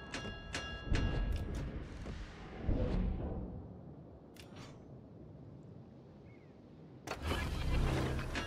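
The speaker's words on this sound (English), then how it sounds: "Engine boost activated." A tank's engine boost in an online tank battle game, heard as a revving engine roar that surges and fades over several seconds, with a burst of mechanical clatter at the end.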